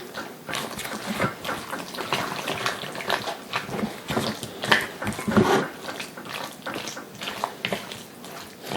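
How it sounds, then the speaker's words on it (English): Gnocchi cooking water poured into an asparagus, ham and cheddar cheese mixture, giving a steady close splashing and sloshing that runs throughout with a few louder clinks. "And I put the water that was with the gnocchi."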